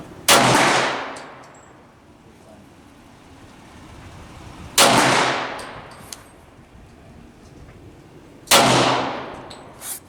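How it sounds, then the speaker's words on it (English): A .40 S&W pistol firing 170-grain powder-coated cast bullets at a 15-yard range, three sharp loud shots spaced several seconds apart with quiet outdoor background between them. "5 shots at 15 yards"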